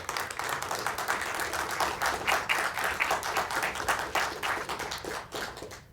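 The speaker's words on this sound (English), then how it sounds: "Please join me in giving this MAVEN team a round of applause for this outstanding work" A room full of people breaks into sustained, dense applause for a NASA MAVEN Mars mission team at a news briefing, the clapping steady and loud for about six seconds with no talk over it.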